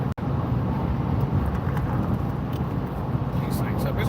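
Steady road rumble and engine drone from inside a car driving home, a continuous loud wash of tire and road noise with no clear change in pace.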